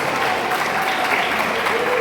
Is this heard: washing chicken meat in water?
no